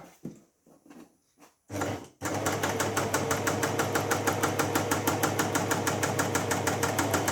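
A Janome Coverpro 3000 sewing machine starts up after a few quiet bumps and stitches steadily, with a fast, even mechanical chatter at close range that runs without a break to the end.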